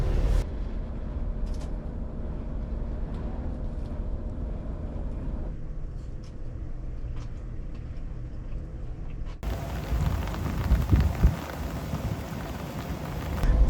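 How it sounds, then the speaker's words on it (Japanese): Heavy rain falls outside a kei camper van with a new turbo engine, heard from inside as a steady broadband wash with low rumble, growing louder and brighter in the final seconds; no talk. "外は雨がかなり降ってますが中は快適です。"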